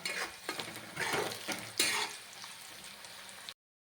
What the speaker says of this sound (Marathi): यामध्ये आपल्याला अर्धा चमचा मीठ टाकायचं आहे. परतून घ्यायचं.